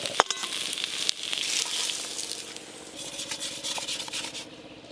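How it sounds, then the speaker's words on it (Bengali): Pieces of teasel gourd (kakrol) frying in oil in a pan, a steady close sizzle mixed with scraping as they are stirred, and a few sharp crackles near the start. "কাঁকরোলগুলো অনেকটাই নরম হয়ে এসছে আর ভালো করে ভাজা ভাজাও হয়ে গেছে"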